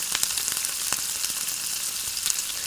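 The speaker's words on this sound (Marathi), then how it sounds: "लसणाच्या पाकळ्या 1 मिनिटभर परतून घ्यायच्या आहेत." Garlic cloves frying in hot oil in a pan give off a dense, even sizzle with small crackling pops throughout, close and steady for a short stretch.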